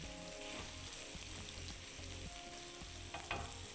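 An egg frying in a pan, a faint continuous sizzle with light stirring and a couple of soft clinks near the end, no talking.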